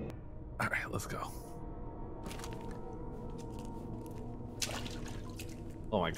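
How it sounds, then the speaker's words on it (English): Dripping water in a video game, heard as a few scattered sharp drips and splashes over a steady ambient game background, with no talking. "water noise spooked me"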